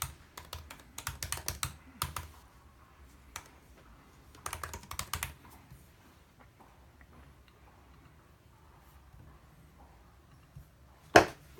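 Someone types a password on a 2016 15-inch MacBook Pro with Touch Bar, producing soft, close keystroke clicks in short bursts separated by pauses, closing on one sharper tap.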